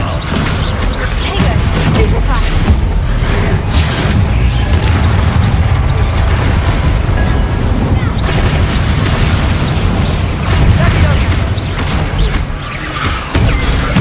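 Booming Confringo spell blasts in the video game Hogwarts Legacy, a dense run of loud, continuous explosive bursts and crashes filling the scene, with a voice calling out spells over the din.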